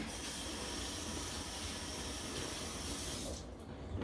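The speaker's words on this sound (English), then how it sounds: "Rinse my hands off." Tap water runs steadily and loudly while hands are rinsed after handling hot sauce at a smoker, a constant rushing stream that eases off briefly near the end.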